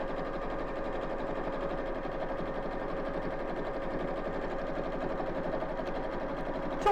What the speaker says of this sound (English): This is a fast little machine, but on occasions like this I wish it was faster. So do bear with me while I'm sewing in straight lines.